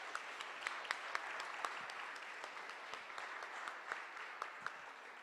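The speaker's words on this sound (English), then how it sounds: "another big round of applause to all of this year's applicants and finalists" Applause for applicants and finalists at a sustainability entrepreneurship pitch event, a soft, steady patter of clapping with a few sharper claps standing out, distant and fairly quiet.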